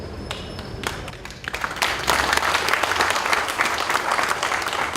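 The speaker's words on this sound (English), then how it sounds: "Let's have a really good round of applause." Audience applause after a speech by a Cabinet Secretary at a Castrol lubricants launch event in Kenya, starting with scattered claps and swelling to steady, dense clapping from a crowd that holds strong to the end.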